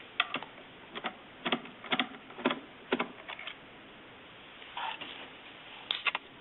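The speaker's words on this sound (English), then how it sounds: "They're going to be removed using a number 1 Phillips head screwdriver" Screws are backed out with a number 1 Phillips head screwdriver with a magnetic tip, giving a series of light clicks and ticks in small clusters, close and fairly quiet, with no talking.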